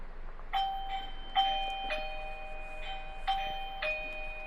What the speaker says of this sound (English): the chime is pretty loud if you guys can hear